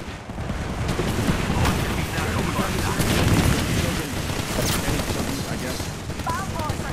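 Knuckle Cluster firing in Apex Legends, a dense rapid volley of blasts and pops over a steady loud roar of game audio, continuing for several seconds with a voice chatting faintly.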